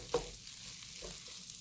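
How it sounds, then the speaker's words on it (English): Chorizo and bacon cooking down in a pan, a faint sizzle punctuated by a couple of brief scraping stirs, quiet and close with no talking. "So we're going to cook that down."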